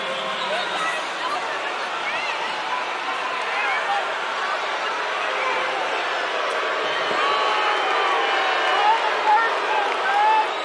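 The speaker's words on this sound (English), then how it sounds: "What the fans were reacting to is they felt like Isaacs got popped as he was defending Mitchell on the perimeter." Basketball arena crowd at a college game between West Virginia and Texas Tech, a steady dense roar of fans reacting to a foul call, with whistles and shouts rising slightly toward the end.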